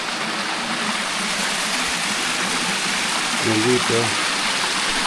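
Water streams out from deep inside a mountain with a steady, close rushing wash that fills the whole stretch; someone speaks briefly near the end.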